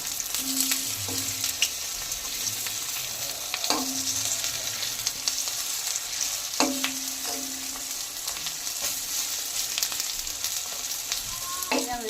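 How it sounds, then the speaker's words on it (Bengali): Helencha greens fritters fry in hot oil with a steady, close crackling sizzle, broken by a few sharp knocks and scrapes as the fritters are flipped; no one speaks. "এবার বড়াগুলো উল্টিয়ে দেবো"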